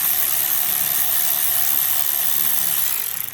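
A power tool whirs in a continuous high-pitched grind while bolts are taken off a custom Harley chopper, loud and close, tapering slightly at the end with no speech.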